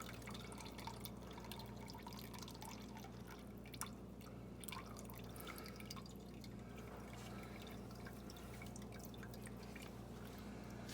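Diesel fuel drains and drips from the fuel filter housing of a 6.4L Powerstroke, a faint steady trickle with scattered drips heard close against a low background hum.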